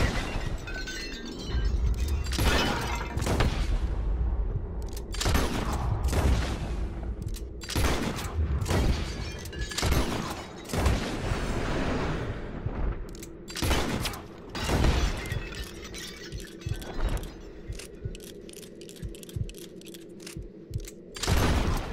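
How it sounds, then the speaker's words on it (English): Rapid volleys of gunshots ring out in Red Dead Redemption 2 as a bottle-shooting contest plays out, sharp loud cracks with glass shattering, mechanical clicks and creaks between bursts, nearly continuous over a steady background. "Whoever shoots more of these bottles wins"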